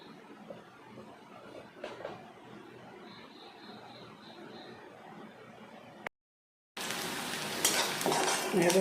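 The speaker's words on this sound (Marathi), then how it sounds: "आता कढई ठेवली आणि मग कांदा तेल टाकून भाजून घेते." Onion fries in oil in a kadhai. A soft, steady sizzle with light stirring comes first, then a brief silence, then a loud, close, crackling sizzle. No one speaks.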